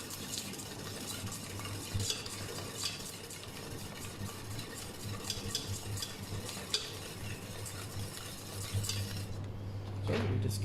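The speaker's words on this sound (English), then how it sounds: "So we just stir and dissolve." Steady scraping and clinking of a utensil stirring eggs in a bowl, continuous and close, with a low hum underneath and no talking.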